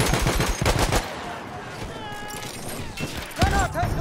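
Machine gun fire in Battlefield 1 during a fight in the Argonne Forest, rapid loud bursts of rattling shots at the start and again later, with a voice speaking between the bursts.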